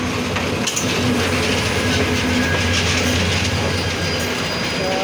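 The Dolonchapa Express passenger train runs at Kaunia Junction in Bangladesh, giving a continuous loud rumble with rhythmic wheel clatter and rail noise throughout.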